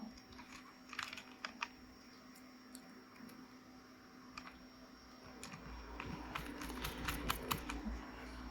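Screws for a 3D-printed kit on a Losi NASCAR model are driven in by hand with a screwdriver, giving faint irregular ticks and clicks that cluster more densely toward the end.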